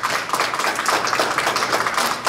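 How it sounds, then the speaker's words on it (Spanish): Loud, dense applause from a crowd at a quinceañera celebration, many hands clapping steadily and close by throughout with no talk over it. "Vamos a darle un fuerte aplauso al abuelito también y a su nieta el día de hoy."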